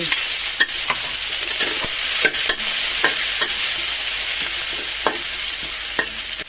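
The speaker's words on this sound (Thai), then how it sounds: "ตั้งกระทะใส่น้ำมัน" Steady loud sizzling of garlic and chili frying in hot oil in a pan, with repeated scraping and stirring clicks from a utensil throughout.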